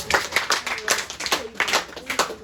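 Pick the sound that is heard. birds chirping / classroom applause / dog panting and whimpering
classroom applause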